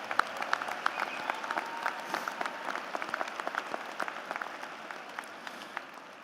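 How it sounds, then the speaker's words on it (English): Audience applause at a high school graduation ceremony, a continuous patter of many hands clapping, somewhat distant and moderate in level, steady for several seconds and thinning slightly toward the end. "A round of applause"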